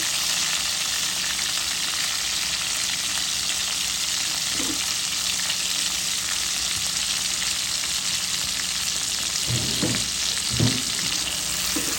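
Tomato, onion and salt fry in a hot pan, a constant loud sizzle with a few brief stirring scrapes near the end.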